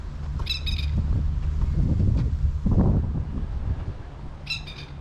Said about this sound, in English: you hear all types of interesting birds coming out of the trees